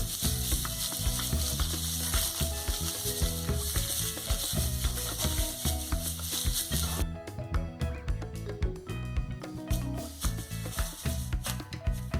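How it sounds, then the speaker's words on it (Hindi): Dry red chillies, bay leaf, cumin and ginger-garlic paste fry in a pan for a curd brinjal curry, giving a steady, busy sizzle with crackling and scraping stirs that runs the whole time, with a denser layer of sound mixed in. "इसको थोड़ा सा मिक्स करके भून लेते हैं।"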